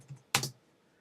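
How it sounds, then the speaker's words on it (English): Computer keyboard typing while writing a plugin's XML file: a few soft taps, then a sharp cluster of two or three close keystrokes, followed by quiet. "you can see exactly what I'm typing"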